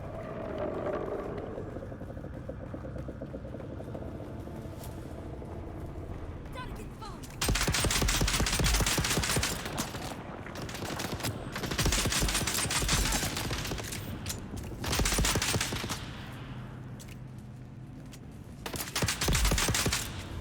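NPC gunfire in Dune: Awakening rings out as bursts of rapid automatic shots on the desert planet Arrakis, quieter rumble first, then loud sustained volleys breaking off and resuming several times.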